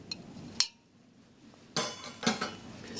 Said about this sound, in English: So, mix your starch and your amylase.